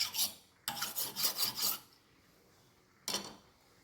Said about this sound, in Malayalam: കത്തിക്ക് ഷാർപ്പ് പോരാ പറഞ്ഞാൽ നമ്മളിത് എടുത്തിട്ട് വേഗം ഇന്നിങ്ങനെ ഉരച്ചാൽ മതി